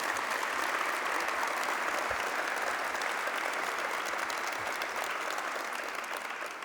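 A dense, steady round of applause from an audience at a public transit event held by the governor, the clapping sustained at an even level throughout and tapering only slightly at the end.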